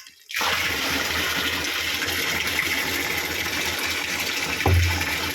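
Water gushes suddenly and pours steadily into a container to dissolve 20-20-20 fertilizer for drip feeding tomato plants, a loud continuous rushing splash close by, with a brief heavier surge near the end.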